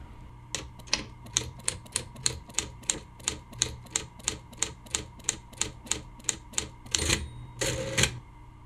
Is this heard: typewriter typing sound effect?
yes